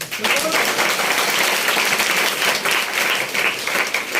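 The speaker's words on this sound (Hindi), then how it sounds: "एक बार उनके लिए ताली हो जाए।" An audience breaks into steady, dense applause, continuous and fairly close, with some voices mixed in.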